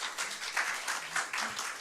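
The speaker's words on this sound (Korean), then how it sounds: "큰 박수 부탁드립니다." Audience at a Seoul forum on cable broadcasting clapping to welcome a council member's speech, a short stretch of brisk, fairly even applause, faint and a little distant.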